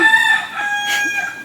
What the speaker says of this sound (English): Nice rooster.